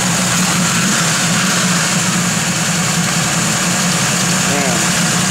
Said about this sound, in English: It's got that lumpy cam in it, so it's definitely got a little cam to it.